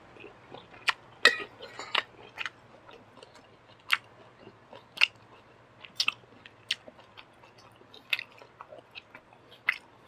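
Close, crisp crunching of fried crispy pork, served as a large tray of spicy stir-fried holy basil with crispy pork, comes in sharp irregular bites every second or so over a quiet low hum, with no talk.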